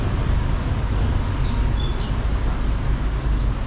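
A colony of caged birds chirps in short high tweets and rising whistles scattered across a few seconds, set against a steady loud background rumble.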